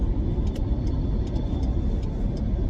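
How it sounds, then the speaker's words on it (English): A truck rolls by on a rural road heard from inside a stopped vehicle, a steady close rumble of tires and engine holding loud for a few seconds with faint ticking above. "Come on, truck, hurry up."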